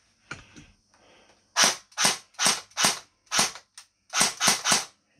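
A Cyma CM.028 AK-47 airsoft gun fires in semi-automatic mode: about nine sharp, close snapping shots in uneven succession after a few faint mechanical clicks.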